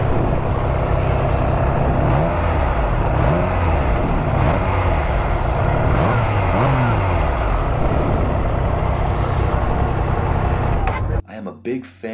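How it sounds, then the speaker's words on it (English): A Triumph Trident motorcycle engine with stock exhaust revs repeatedly, loud and close, rising and falling through several throttle blips before cutting off abruptly near the end. "I know this is the sound of a Triumph Trident,"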